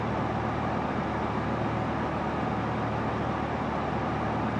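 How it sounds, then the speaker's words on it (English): Loud, steady broadband drone of a Pilatus PC-12 turboprop engine in a flight simulator game, a constant dense roar filling the whole clip without letup, no talking. "Man, that sounds loud as hell. I'm not sure what engine sound that is or what."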